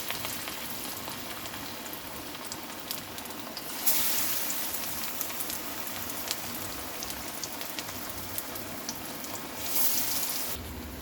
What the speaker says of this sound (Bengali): এদিকে আমার তেলটা গরম হয়ে গেছে, আমি এবার এগুলোকে একসাথে ছেড়ে দেবো।